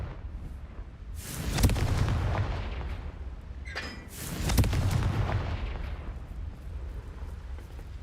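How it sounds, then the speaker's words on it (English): Two booming blasts of the Confringo fire spell in Hogwarts Legacy go off about three seconds apart, each a loud burst that rolls out into a rumbling tail over a low background hum. "Confringo."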